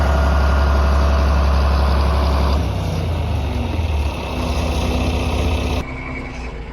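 A 1963 John Deere 5010 tractor engine idles with a steady low rumble, dropping slightly in pitch partway through, then quieting near the end.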